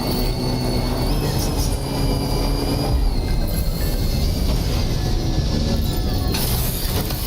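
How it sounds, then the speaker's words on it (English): A monorail train runs in the video game Death Stranding 2, giving a steady, loud rumbling rail roll with faint wheel squeal that fills the whole stretch without talk. "Monorail's back in business."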